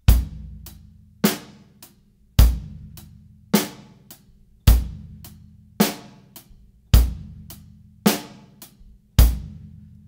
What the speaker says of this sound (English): the hi-hat, accenting every downbeat with the shaft of the stick, which is this portion here, and then going to the tip of the stick for the upbeats